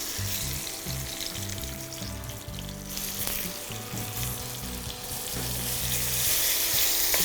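Jujubes frying in oil with mustard seeds and black cumin for a sweet-sour Bengali chutney, a steady close sizzle with dense crackle and faint stirring scrapes throughout, growing a little louder toward the end.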